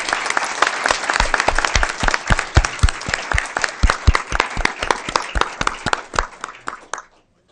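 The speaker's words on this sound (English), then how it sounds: "Let's give them one more round of applause" A school board meeting audience gives a team a round of applause: loud, close, dense clapping that holds steady for about seven seconds and then stops abruptly.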